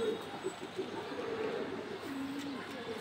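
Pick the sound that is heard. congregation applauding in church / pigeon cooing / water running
pigeon cooing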